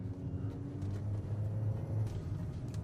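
A Changan CS15 SUV drives through a roundabout, heard from inside the cabin as a low, steady road rumble and engine hum. Faint thumps and rattles come through, and no one speaks.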